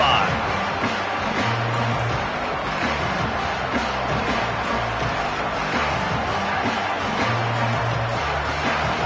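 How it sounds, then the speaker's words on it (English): An American football stadium crowd at a USC game roars in a dense, continuous wash of cheering and noise, loud throughout, with a commentator talking over it. "This crowd ready to make its presence known."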